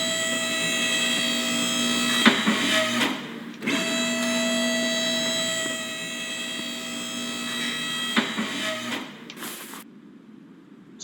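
Car lift raising a Nissan Skyline R34 in the Car Mechanic Simulator 2021 game, a steady mechanical whine with a constant tone, briefly pausing and clicking before continuing, then stopping abruptly near the end.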